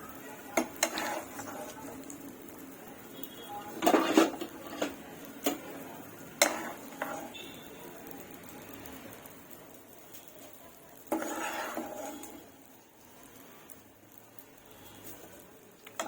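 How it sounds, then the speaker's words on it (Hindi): Fried gond being lifted out of ghee with a slotted spoon, faint bubbling under scattered metallic clinks and scrapes, with a couple of louder clattering bursts against the pan, no speech. "अब निकालने के लिए हम झारा इस्तेमाल करेंगे ताकि घी निकल जाए एक्स्ट्रा वाला।"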